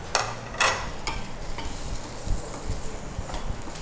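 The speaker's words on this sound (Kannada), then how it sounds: "ಈಗ ಈ ಶಾಲೋ ಫ್ರೈ ಮಾಡಿದ್ದು ಬನಾನಾ ಹಾಕು. ಅದಕ್ಕೆ ಮಿಕ್ಸ್ ಮಾಡೋದು." Shallow-fried banana is stirred into a mixture in a pan, soft scraping strokes and a few utensil knocks over a low steady sizzle, close by.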